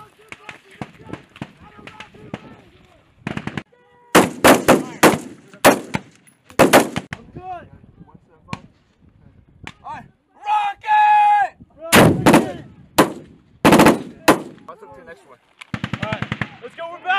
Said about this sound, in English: Machine gun suppression!